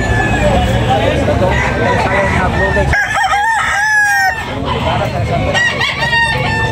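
A rooster crows loudly several times close by at a chicken market in Tabunok, Talisay, Cebu, with clucking hens and a chatter of voices in the background.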